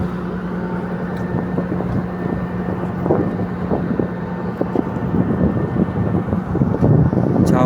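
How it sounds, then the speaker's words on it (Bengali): A large foreign ship moves slowly along a river, its low steady engine drone running continuously beneath gusty wind buffeting the microphone, with no talk. "বিদেশি একটা জাহাজ যাচ্ছে"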